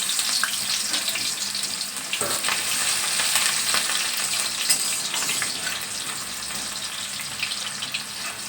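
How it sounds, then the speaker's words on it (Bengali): Onions frying in a pan for a chicken pulao give a steady, close sizzle with occasional stirring scrapes throughout, and no one speaks. "এবার এখানে পেঁয়াজগুলো দিয়ে দিচ্ছি।"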